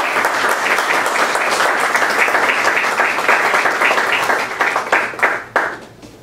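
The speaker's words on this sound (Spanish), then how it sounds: "Recibamos con un caluroso aplauso a nuestros amigos." Warm, loud applause from an audience welcoming speakers at an Afro-Peruvian heritage event, dense clapping close by that holds steady, then thins into a few final scattered claps.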